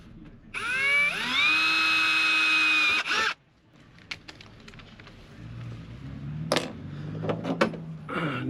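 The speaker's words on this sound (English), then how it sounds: "I'm going to drill a pilot hole first," A power drill bores a pilot hole into a metal caravan awning drum, whining loudly and steadily for about two and a half seconds before stopping abruptly, followed by quieter handling clatter and knocks.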